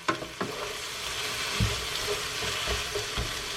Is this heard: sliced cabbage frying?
yes